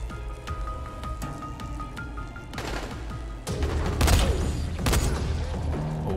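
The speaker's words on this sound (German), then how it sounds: "Oh, der Schuss hat gerade gesessen." Gunfire in the video game Dying Light, scattered sharp reports growing into louder, denser bursts toward the end over a rumbling, crackling background.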